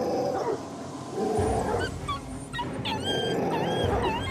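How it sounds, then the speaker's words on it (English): A large dog growls and barks while a pup whimpers and yips in high, wavering cries, with the frantic scuffle continuing loud and close throughout. "Sounds like a large dog attacking a defenseless pup."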